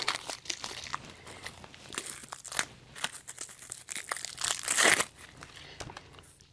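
Crinkling and rustling of a plastic bag as a roll of FastCap peel-and-stick tape is pulled out, with irregular crackles building to a louder crunch near the end, close and fairly quiet, no talking.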